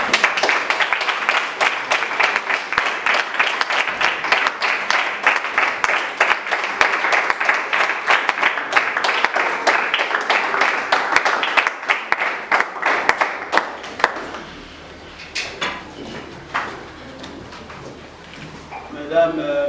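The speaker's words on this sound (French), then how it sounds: "on va pas l'applaudir s'il vous plaît." Sustained audience applause at a civil wedding ceremony in a town hall, steady dense clapping from a crowd that fades out, followed by a few scattered claps and murmuring.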